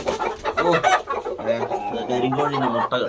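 Black hens at a small poultry farm cluck and chatter continuously close by, a busy overlapping flock sound with pitched calls throughout.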